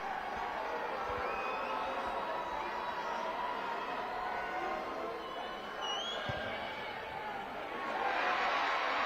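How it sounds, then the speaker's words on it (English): A rugby match crowd roars in a steady, broad wash of cheering and whoops that swells slightly toward the end, heard from a distance without clear talk over it. "You can hear the cheer."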